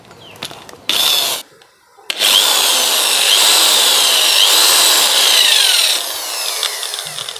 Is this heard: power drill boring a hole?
yes